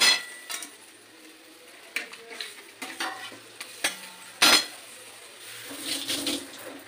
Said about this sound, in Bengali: এবার আমি উচ্ছেগুলোকে দিয়ে দেবো।